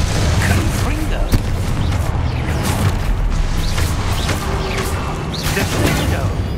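Confringo blasting spell cast in the video game Hogwarts Legacy, loud booming bursts and crashes in a busy, continuous combat mix with layered effects and voices throughout.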